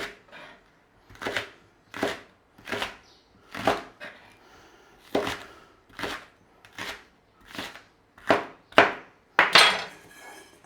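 Leeks being chopped into rough chunks on a cutting board for a crockpot Irish stew, a dozen crisp knife strikes in a steady rhythm, close and clear with no talk.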